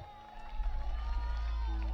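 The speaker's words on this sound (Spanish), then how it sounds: "Démosle un fuerte aplauso." An audience at a school music gala applauds a student group, a dense, steady wash of clapping and crowd noise that swells after a soft start and holds loud to the end, with faint cheering mixed in.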